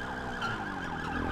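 A police car siren in a video game wails in a rising and falling cycle. It sounds loud and close, layered over steady engine and traffic noise for the whole stretch.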